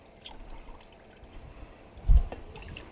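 Passion fruit and pineapple juice poured into a pot of syrup, a faint, quiet liquid trickle and drip with one brief, louder splash near the end.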